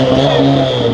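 A Fiat Marea Turbo car accelerating hard in second gear during a street drag race. The engine gives a loud, steady, close roar over about one second, with no voices.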